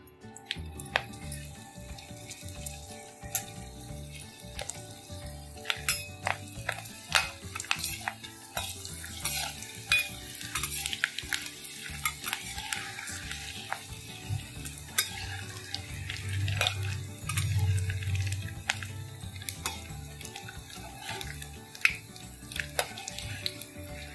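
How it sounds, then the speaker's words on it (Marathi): Green chillies stuffed with sago and crushed peanuts fry in hot oil: a low bubbling sizzle with frequent sharp clicks and taps of a utensil against the pan, steady and close over a long stretch. "या अशा मिरच्या तयार झालेल्या आहेत। या आपण तेलात तळूया आता।"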